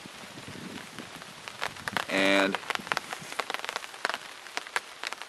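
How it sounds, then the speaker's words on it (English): Rain pattering on a Kelty Salida 2 tent, close and steady with sharp individual drop hits, and a brief voice and a short tonal sound partway through. "Okay, it's raining again."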